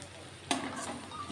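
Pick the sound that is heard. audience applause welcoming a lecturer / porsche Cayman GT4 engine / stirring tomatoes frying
stirring tomatoes frying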